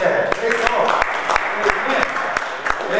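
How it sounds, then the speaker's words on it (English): A church congregation claps hands together in a steady rhythm during a worship service, the sharp claps repeating about three times a second over a continuous wash of voices. "We give a hand clap for that."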